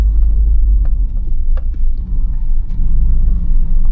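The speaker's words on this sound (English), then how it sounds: "Just drive up in here a little bit further just to see if it closes right in or not." A car creeps slowly over rough ground into a small recreation-site campsite, its engine a steady low rumble with faint crunching and knocks from the tyres throughout, close and continuous.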